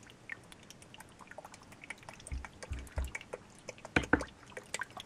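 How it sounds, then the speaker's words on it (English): Acrylic paint poured into a clean container, giving a soft liquid trickle with scattered drips and a few heavier splashy glugs near the end, close and fairly quiet with no talk. "Next, we pour the paint into a clean container, taking care to not make too much of a mess"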